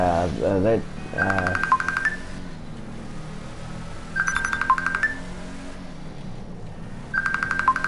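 A mobile phone goes off at an airport, sending out short bursts of bright electronic tones that repeat about every three seconds over a low buzzing hum, with a brief voice at the start.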